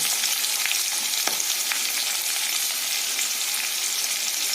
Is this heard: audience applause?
no